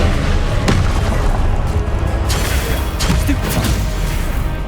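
A Confringo fire spell detonates in Hogwarts Legacy, a loud booming blast among heavy crashing impacts and whooshes of spell combat.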